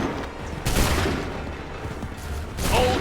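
A volley of musket fire in Assassin's Creed III: several bursts of booming, crackling shots at a moderate distance, with a rumbling battle din between them.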